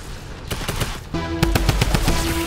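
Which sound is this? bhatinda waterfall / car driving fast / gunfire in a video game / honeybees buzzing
gunfire in a video game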